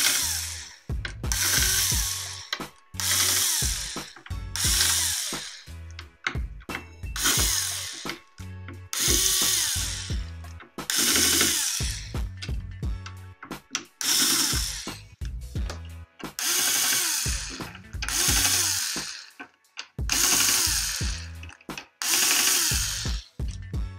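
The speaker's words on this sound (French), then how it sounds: "il va falloir les visser correctement." A power drill drives screws to fasten a hoverboard motherboard and its two sensors in place, in about a dozen loud, close whirring bursts separated by brief pauses.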